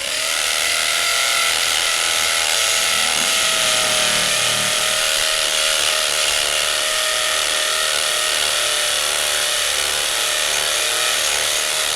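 An older corded power drill running on its hammer setting while redoing an old deck in composite makes a loud, continuous, harsh grinding buzz with no pauses, and no one talks over it.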